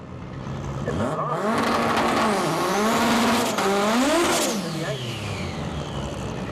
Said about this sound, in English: Lee is away first, but the power of the Civic overhauls him almost immediately